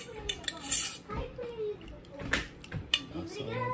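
Metal clanks and scrapes of a ladle against a pot of shrimp boil, a few sharp knocks amid kitchen clatter, close by, with a faint sizzle underneath.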